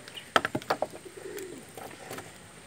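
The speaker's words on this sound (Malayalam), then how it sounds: "നമുക്ക് എല്ലാ പ്രാവിനൊന്നും അപ്പത്തിൽ വിട്ട് കൊടുക്കണം." Pigeons held in a cage give a few soft, close coos and bird calls in a short burst, then fade to quiet rustling.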